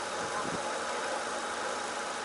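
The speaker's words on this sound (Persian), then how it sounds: "این حالت موتور ماشین" A 1.6-litre car engine running on gas idles steadily, a low continuous hum with faint vibration and no voices.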